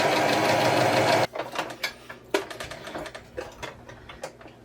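A sewing machine stitching a Christmas tree quilt block potholder runs in a steady loud whir, then breaks into irregular close ticking and clacking bursts as the stitching slows and stops.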